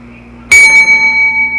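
A bright notification bell sound effect strikes once sharply after a quiet start, then rings on with a clear sustained tone that slowly fades.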